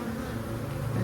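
Honey bees from a newly installed package colony buzz steadily and close up while a hive frame is lifted and checked, a dense continuous drone with no talking.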